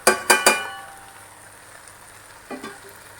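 Spice mix goes into hot oil with fish heads: three sharp sizzling bursts come in quick succession, then settle into a soft, steady frying hiss, with a smaller crackle flaring up again later.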